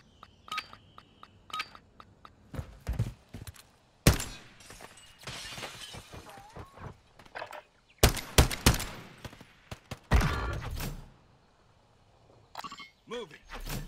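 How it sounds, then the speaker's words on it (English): Sniper rifle shots ring out in a video game as a handful of separate sharp, loud cracks spaced several seconds apart, with smaller clicks and quieter effects between them. "This is like a sniper rifle."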